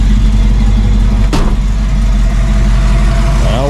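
A Pony car's engine runs loud and close from a cold start, a rough, heavy low-end rumble that holds steady, with one sharp transient partway through.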